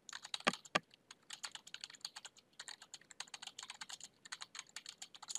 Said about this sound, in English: I'm just going to start typing in this block.